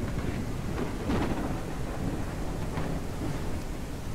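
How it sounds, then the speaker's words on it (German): Heavy thunderstorm in the farming game Ranch Simulator, with steady dense rain hiss and low rolling thunder rumbles swelling beneath it, continuous and loud throughout. "Das ist aber diesmal ein heftiges Gewitter"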